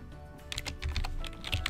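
Quick bursts of typing on a computer keyboard, a short run of close, light key clicks in a quiet room.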